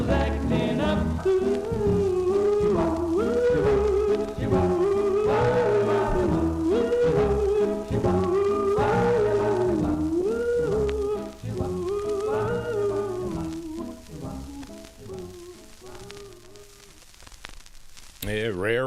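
A 1954 doo-wop record on the Fortune label plays, with a lead vocal and group harmonies over a steady backing, fading toward the end.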